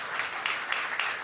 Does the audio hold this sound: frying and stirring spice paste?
no